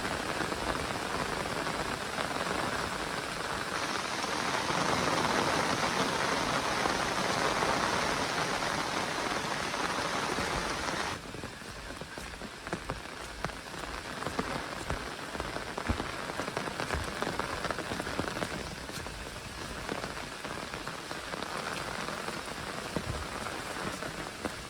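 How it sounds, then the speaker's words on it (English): Rain patters steadily on an open umbrella overhead, a dense close hiss of drops that is loud at first and eases slightly partway through, with no voices. "but it just keeps raining."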